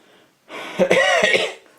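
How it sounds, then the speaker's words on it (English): A single short, rough cough with a throaty catch, close to the microphone, following a brief near-silence. "I have a bit of a cough"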